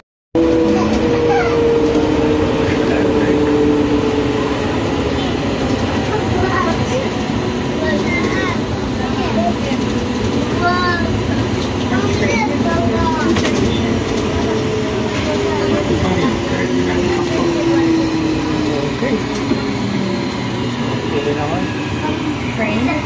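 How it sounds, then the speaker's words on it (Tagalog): Steady loud rumble of a train ride heard from inside the carriage, continuous rolling noise with faint squeals and rattles throughout, with some voices in the background. "Sakay pa kami ng train din eh."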